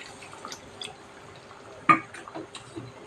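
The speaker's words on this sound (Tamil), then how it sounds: "அந்த புளி தண்ணி இப்போ ஊற்றிடலாம்." Tamarind water poured into a pan of Sankara fish curry, heard as faint drips and liquid trickles with a single sharper splash or clink partway through, quiet and close with no talk.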